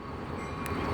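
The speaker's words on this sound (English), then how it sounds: "There's a train." A train at Jim Thorpe, a brief, steady low rumble of rolling railcars heard close by with no talking.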